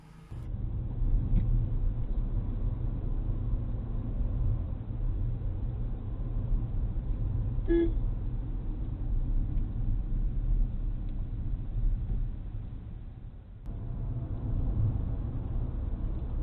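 A car drives along a road through Pilibhit Tiger Reserve, a steady low engine and road rumble heard from inside the vehicle, constant throughout with a brief dip near the end.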